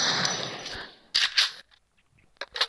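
Video game gunfire in a lone-wolf match, aimed for a headshot: a dense, sustained burst of shots fills the first second, then a few separate sharp cracks follow and trail off into near silence before two more quick shots.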